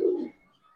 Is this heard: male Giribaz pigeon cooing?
yes